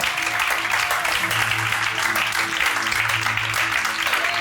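A church congregation applauds in steady, dense clapping that fills the room for several seconds, moderately loud, with voices faintly audible underneath.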